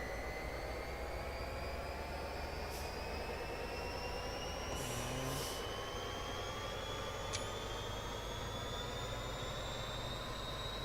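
A freight train in Train Simulator 2017 on London's North London Line in stormy weather, with a steady low rumble and a sustained drone running through the whole stretch, and no talk.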